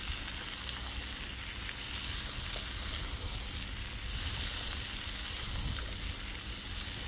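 Smoked sausages, bacon and mangalița pork fat sizzle together in a pan with a steady, dense crackle throughout. Occasional faint stirring sounds can be heard close by, with no talking.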